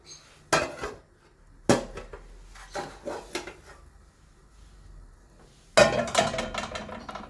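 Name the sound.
flipping spinach cheese sandwich onto the pan lid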